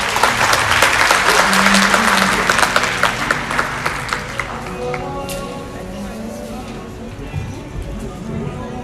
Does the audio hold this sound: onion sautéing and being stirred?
no